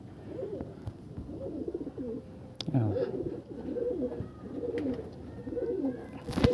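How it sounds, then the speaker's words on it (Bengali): Andhra pigeons of the black-eyed Kalanka type coo in low, repeated rolling phrases at close range, the cooing running steadily throughout with voices talking over it. "এটা আন্দ্রা পায়রা"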